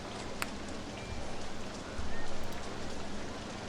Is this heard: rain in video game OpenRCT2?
yes